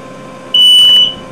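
A household fire alarm, set off by smoke from soldering during a Switch USB port replacement, sounds a single loud, high, steady electronic beep lasting about half a second over a quiet room hum.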